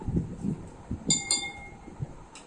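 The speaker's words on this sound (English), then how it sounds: "Stir it." A spoon stirring a Dettol suspension in a glass beaker, giving a few light, bright clinks against the glass among soft scraping movements, close and quiet with no talking.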